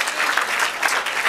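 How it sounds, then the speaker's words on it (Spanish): A church congregation breaks into steady, dense applause, loud and continuous for a brief moment with no voices standing out. "Denle otro aplauso al Señor."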